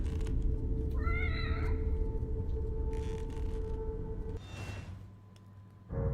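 A cat in the video game The Evil Within (The Assignment DLC) gives a short, clear meow over a constant low in-game drone, which fades near the end.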